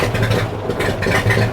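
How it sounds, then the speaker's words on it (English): A 1950 Ford 8N tractor's engine turns over and runs with a steady low rumbling drone, loud and close, with no voices. "And then you're going to push the starter."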